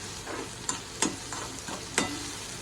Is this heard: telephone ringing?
no